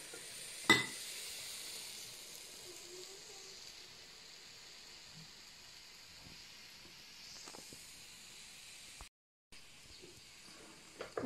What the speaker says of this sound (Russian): Сейчас будем печь вафли.